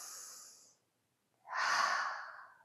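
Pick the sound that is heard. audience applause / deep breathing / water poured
deep breathing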